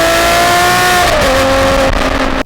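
A Ferrari 599 GTO with a single-clutch F1 automated manual transmission accelerates flat out, its loud, close engine note climbing steadily, dipping briefly at a gearshift, then pulling hard again.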